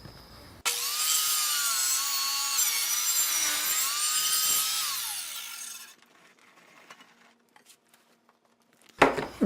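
A table saw rips a tapered strip off a piece of wood, a loud close whine starting abruptly and holding for about five seconds before the blade winds down, followed by faint handling knocks and a final bump.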